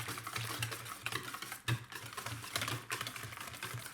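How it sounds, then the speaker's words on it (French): A whisk beating cream cheese and thick crème fraîche in a bowl for a lemon tart, giving a steady, rapid, rhythmic scraping and tapping, close up and continuous with no speech. "nous allons mélanger la mixture à l'aide d'un fouet"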